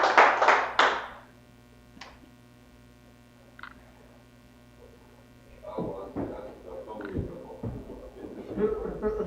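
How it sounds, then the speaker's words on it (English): Hand clapping bursts out from a gathered congregation at a scripture study meeting, lasting about a second before fading. Voices then talk over a steady room hum. "Clap it up for the Lord."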